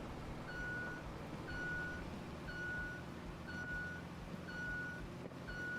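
Truck reversing alarm in a video game, a steady series of six evenly spaced electronic beeps about once per second over a low engine rumble, with no talking.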